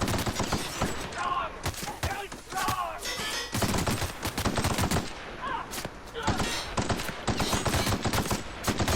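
Rapid gunfire from the video game The Outer Worlds rattles in dense, overlapping bursts for the whole stretch, loud and close, with a voice talking over parts of it.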